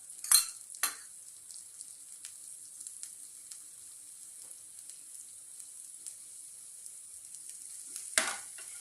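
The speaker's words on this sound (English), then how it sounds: "Fry for another few minutes." Oil sizzling in a pan as ground spices fry for a South Indian chicken masala, a steady soft hiss with a couple of sharp stirring clatters near the start and one near the end, no voices.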